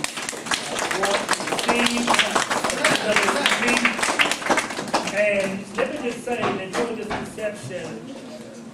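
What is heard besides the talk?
round of applause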